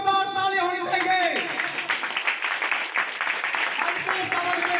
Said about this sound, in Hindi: वेरी गुड, जोरदार ताली होनी चाहिए।